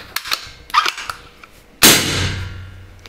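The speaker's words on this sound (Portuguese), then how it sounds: "Também vou fazer o disparo em primeiro estágio." A single loud suppressed gunshot, muffled by a large suppressor made in China, cracks out near the end of the clip and rings down. Softer clicks and handling noises come before it.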